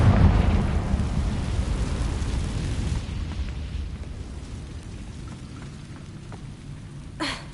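A Confringo blasting spell from the Hogwarts Legacy game erupts as a loud, rumbling blast that fades over several seconds into a low roar, capped near the end by a short, sharp burst.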